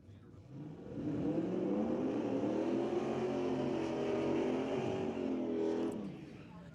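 Drag race cars making qualifying passes in the Outlaw 275 class at a drag strip, with loud, steady engine roar sustained across the clip and rising pitch sweeps as the cars accelerate.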